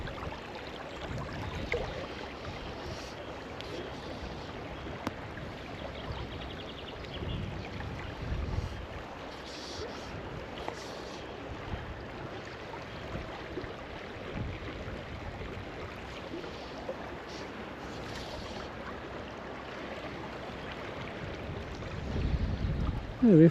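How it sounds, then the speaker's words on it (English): Cold north-easterly wind buffets steadily around a fishing boat, a continuous rumbling rush with occasional gusts and low thumps, growing louder at the very end. "the wind's blowing into my face in a way"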